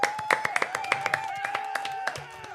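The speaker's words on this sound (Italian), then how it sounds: "Vi assordo un attimo, ma... applauso." A short applause sound effect plays during a tournament-style show: a patter of sharp claps, fairly loud and close, over an underlying tonal music or effects bed with a voice present.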